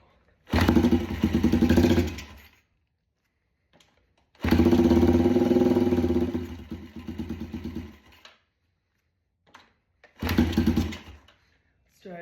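Yamaha TTR 90 dirt bike engine struggling to idle, firing up in loud rough bursts that sputter and die out between stretches of silence, three attempts in all.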